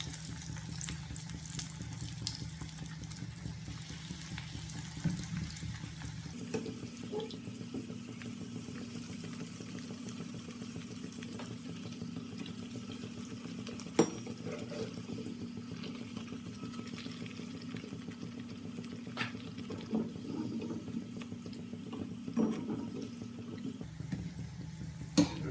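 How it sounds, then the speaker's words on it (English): Bread pieces frying in hot oil for a dessert, a steady soft sizzle and bubbling that continues throughout at a low level, with occasional faint clicks. "Now we have to start frying our bread."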